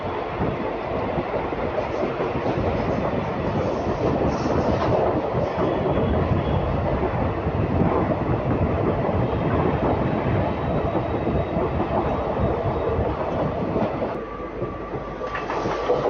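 Gujarat Superfast Express, train 22954 from Ahmedabad to Mumbai Central, rolls past on the tracks with a steady loud rumble and rhythmic clickety-clack of wheels over rail joints throughout, easing slightly near the end.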